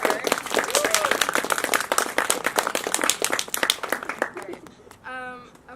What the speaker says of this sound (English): can we have another round of applause for her?